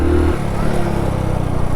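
A motorcycle engine revs loudly and close by, a throbbing mechanical rumble that surges briefly before settling into a rough, steady running note.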